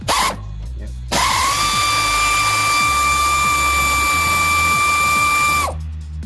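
A power tool with a socket on a Dodge Ram 50 pickup whines loudly and steadily for about four and a half seconds, with a short burst just before and after, close and piercing with a high tonal ring.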